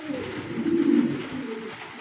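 Sirazi pigeons and a Sirazi chick cooing nearby, a low rolling coo swelling in the middle and trailing off, heard alone.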